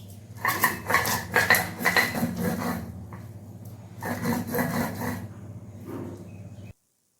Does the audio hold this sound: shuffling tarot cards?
no